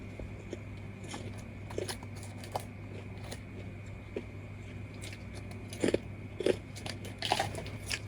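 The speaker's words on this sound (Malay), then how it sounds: "Dia rangup tau popcorn ni." Strawberry pizza-flavoured popcorn is crunched up close in irregular, crisp bites over a steady low hum, with several sharper crunches toward the end and no speech.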